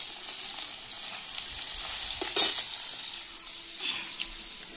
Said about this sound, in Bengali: আর এই দিকে হয়েছে মাছ ভাজা।